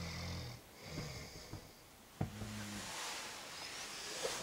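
A person snores in rasping, wheezy breaths at the Colca, with a few sharp snorts between long hissing exhales, close and fairly quiet.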